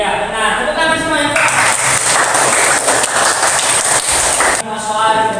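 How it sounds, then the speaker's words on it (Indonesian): A classroom of students claps together in a dense, loud burst of applause that lasts a few seconds and cuts off sharply, with a voice speaking just before and after it. "Tepuk tangan semuanya."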